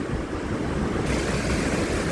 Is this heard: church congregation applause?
no